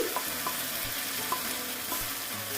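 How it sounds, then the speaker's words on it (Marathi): Caramelised sugar being stirred quickly in a chicken biryani pot, a constant close sizzle and fry hiss broken by repeated scraping spoon strokes against the pot, with no voices. "आणि हे फटाफट हलवून घ्यायचं"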